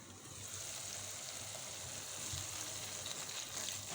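Masala for aloo badiyan curry fries on a slow flame in a covered pan, a faint, steady, even sizzling hiss with no talk.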